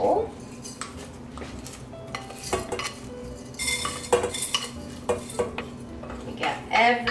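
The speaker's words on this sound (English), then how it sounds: "we are going to pour the rice in a bowl" Dry rice is poured into a bowl in a kitchen, making uneven rattling and clattering bursts with a few sharper clinks between them.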